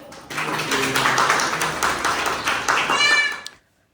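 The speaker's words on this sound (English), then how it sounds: "with a big round of claps to all the students, parents, teachers" An audience claps for students after a school performance, a burst of applause with a voice over it that swells, holds, then cuts off abruptly near the end.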